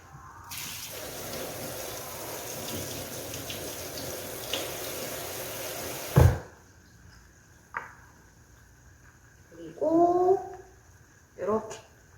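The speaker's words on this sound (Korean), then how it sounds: "흐르는 물에 쪼물쪼물 이렇게 한번 딱 헹궈 주시면 돼요" Parsley wrapped in a cotton cloth gets a brief rinse under a running kitchen tap. A steady stream of water runs for several seconds and then stops, followed by a few short handling sounds and bits of speech.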